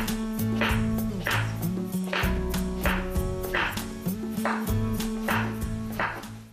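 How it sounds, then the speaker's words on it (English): A knife roughly chops zucchini on a cutting board, a steady series of sharp, evenly spaced knocks close up, about a dozen strikes in a regular rhythm with nothing else over them. "So I'm just going to roughly chop these zucchinis."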